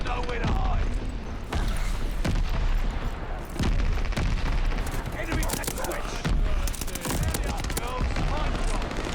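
Rapid BAR rifle fire in Call of Duty Vanguard, loud sustained bursts of gunshots with booming impacts, broken by brief pauses, with a player's voice talking over the shooting.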